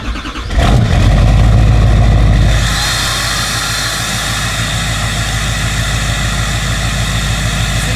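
A Duramax diesel truck cold starting in winter with a resonator-deleted exhaust: a starter crank, then a loud roar settling into a steady, rumbling, rattly diesel idle, close by.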